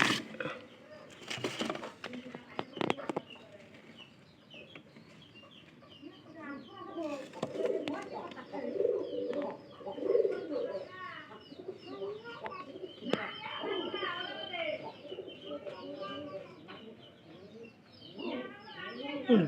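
A pet pigeon coos in repeated soft, rolling calls at close range, with some faint background sounds between the coos.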